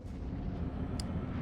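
A cannon fires in the video game Elden Ring, a deep booming blast with a rumbling low-end tail and a brief sharp crack near the end.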